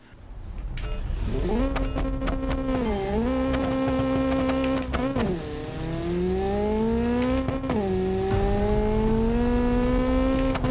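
A car in the BeamNG.drive game, tuned as a modern Nissan 240SX, accelerates hard from a standstill, its engine note climbing and dropping at each gear shift, loud and close with no talk.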